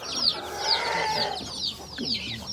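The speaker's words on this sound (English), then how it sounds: "The chicken coop is here, behind me, all covered with enormous boulders." Chickens cluck softly in a coop on a boulder-covered hillside overlooking a valley in the Himalayas, with repeated short calls at moderate distance over steady outdoor background noise.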